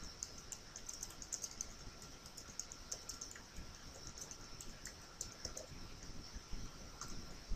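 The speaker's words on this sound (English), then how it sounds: "And type in here." Quiet typing on a computer keyboard, a steady run of soft, closely spaced key clicks, heard alone with no talking.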